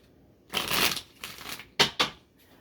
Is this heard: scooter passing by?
no